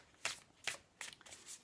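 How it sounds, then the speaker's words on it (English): A deck of tarot cards being shuffled by hand: three or four quick riffling bursts, close and crisp, in a quiet room with no talking. "Okay, so I'm going to give the cards a shuffle."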